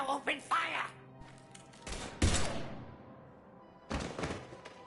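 Video game gunfire comes as a few sharp, loud bursts and thuds between stretches of spoken dialogue.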